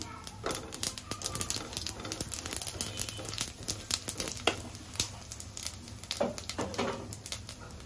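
Cumin seeds sizzling in hot oil give close, crackly spattering with scattered sharp pops, and a voice is heard at moments.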